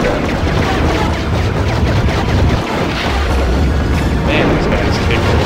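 Repeated explosion booms from the Star Wars Episode I: Battle for Naboo video game, loud and continuous, rumbling through dense low-frequency noise across the whole stretch.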